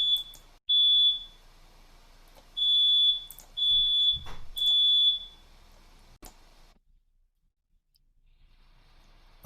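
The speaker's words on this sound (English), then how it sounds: "my alarm's going off" A smoke alarm sounds indoors in a series of loud, piercing electronic beeps of varying length, with a few clicks in between, then cuts off and leaves near silence.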